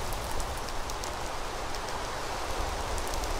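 Rain switched on in the video game Minecraft: a steady, dense hiss of falling rain with scattered droplet patter, even and continuous throughout, no voices.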